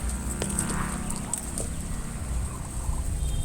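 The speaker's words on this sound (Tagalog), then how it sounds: "Ito po yung mga bibi natin." Ducks and other fowl call close by in a farmyard, a busy mix of quacks and gobble-like chatter over a steady background murmur.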